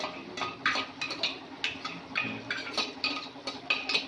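A spoon stirs and scrapes a paste in a metal pan while making Peshawari charsi chicken karahi, a steady run of close, light clinks and scrapes with no talk.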